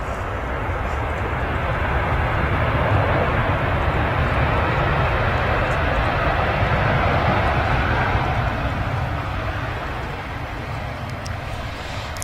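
A 14-year-old Ryanair Boeing 737 jet at Manchester Airport, a loud broad engine roar holding steady for several seconds before easing slightly, heard from outdoors at a distance with wind.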